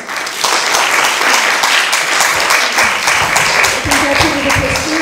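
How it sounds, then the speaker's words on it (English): Sustained applause from a large conference audience for a panel of speakers, dense and steady throughout, with a voice starting to speak over the clapping near the end. "A round of applause for all our speakers."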